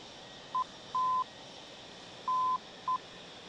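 Warning tone from a radar detector panel in a Mirage F1 cockpit during a flight simulator cold start: four clean beeps at a steady pitch, two short and two longer, in an irregular rhythm over a faint cockpit hum.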